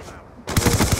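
Rapid automatic gunfire bursts out suddenly and loudly in a NukeTown shooter video game match, a fast rhythmic stream of shots following a short quieter lead-in.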